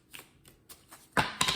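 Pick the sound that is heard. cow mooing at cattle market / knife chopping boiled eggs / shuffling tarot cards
shuffling tarot cards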